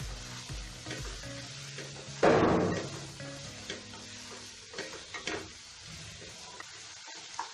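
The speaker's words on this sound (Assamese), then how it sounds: "চিকেনখিনি দি পেলাই মই 7 মিনিটমান সময় এইদৰে পিঁয়াজৰ সৈতে ফ্ৰাই কৰি থাকিম" Chicken pieces fry with onions in a pan, a steady low sizzle broken by scraping stir strokes, with one louder burst of sizzling as the food is turned, and small ticks and clinks of the spatula.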